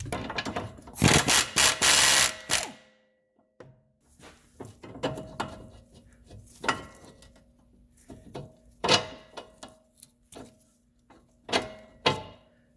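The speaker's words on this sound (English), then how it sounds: "we might need a flex socket to install the new ones" A ratchet and flex socket work the front stabilizer end links on a 2009 Subaru Forester, with close, scattered bursts of clicking, knocks and clunks separated by short quiet gaps.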